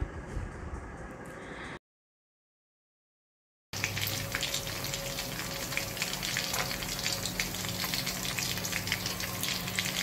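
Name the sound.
fish frying in a pan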